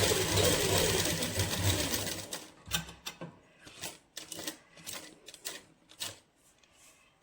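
Sewing machine stitching lace onto a party-wear dupatta, starting as a loud continuous whir, then breaking into short stop-start bursts of rapid needle chatter with quiet gaps between them.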